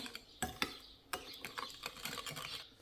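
Faint, irregular clinks and light scraping of a spoon stirring sugar, flour and warm water in a small saucer, a quiet series of taps close by with no talking.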